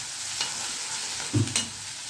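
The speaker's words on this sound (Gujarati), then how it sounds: "આ જો મસાલો વઘારે સેન્ડવિચનો" Sandwich masala is tempered in hot oil in a pan, giving a soft sizzle broken by a few clinking stirs of a spoon against the pan, with no talking.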